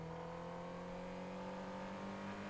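A steady, droning car engine in the video game M.A.G. hums at a constant pitch, faint and continuous, with no voices over it.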